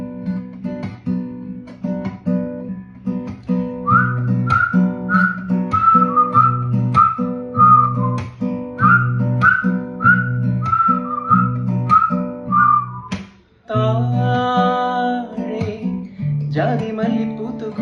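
A person whistles a bright melodic tune, each phrase made of short, evenly spaced notes, over steady backing music, before a brief pause and a sung continuation with voices.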